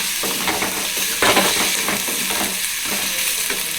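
Onion and slit green chillies fry in oil in a pan for vada curry, a loud continuous sizzle broken by repeated scraping strokes of a spoon stirring, close and with no talking.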